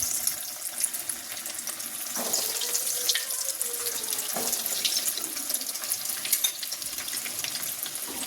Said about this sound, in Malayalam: ഇനി അതിലേക്ക് നമുക്ക് ഓരോന്നിട്ട് വറുത്ത് വരാം.